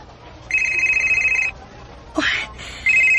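A telephone rings in bursts of electronic trilling, a one-second ring, a short pause, a brief rising chirp, then another ring starting, loud and close with no voices over it.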